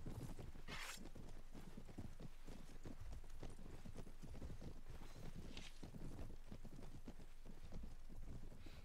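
Faint hoofbeats of an Arabian horse in the video game Mount & Blade: Warband, a steady clip-clop pattern running throughout beneath wind-like background noise.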